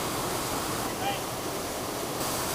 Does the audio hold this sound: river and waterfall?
yes